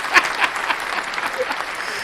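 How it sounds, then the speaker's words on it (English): A short round of applause breaks out in a sports talk setting: a scattered burst of clapping that peaks early and then settles into lighter, uneven claps before fading. "Round of applause for the Make a Wish MVP"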